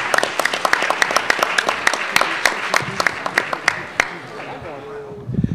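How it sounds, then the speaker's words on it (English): Crowd applause for Representative Cooper at a leadership and training conference, a burst of distinct claps that thins and fades toward the end. "Please give Representative Cooper another round of applause"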